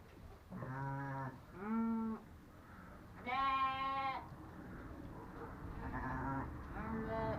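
Several loud sheep bleats ring out one after another at close range, with quieter ones between, over a faint background hum.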